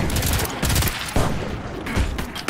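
Rapid bursts of gunfire in the co-op shooter Earthfall, dense repeated shots rattling across the whole stretch, loud and close, with little talk.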